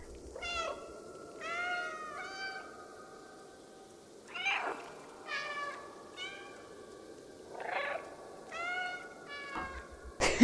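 A cat in the video game Stray meows repeatedly, five or six clear, short, rising-and-falling cries spaced across several seconds over a quiet ambient background.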